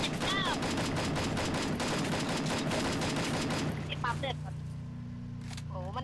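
Dense, continuous gunfire in the battle-royale shooter Free Fire, rapid automatic bursts close and loud for several seconds before easing into quieter engine hum, with a player talking over the action.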